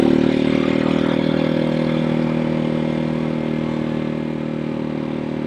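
A Janus Halcyon 250 single-cylinder motorcycle cruises along, its engine a steady loud drone with a slowly easing pitch, heard close with no speech.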